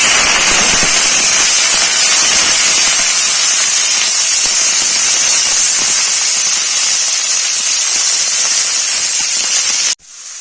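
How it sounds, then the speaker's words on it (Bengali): Broccoli florets hitting hot oil with bay leaf already in the pan give a loud, steady broadband sizzle and hiss that holds for about ten seconds before cutting off abruptly, with no talking. "দিয়ে দিয়েছি ব্রোকলিটা তেলে"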